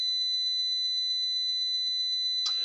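A steady, high-pitched 2 kHz electronic tone holds alone, ending with a brief burst of noise.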